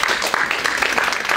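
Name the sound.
applause for Alison Hinds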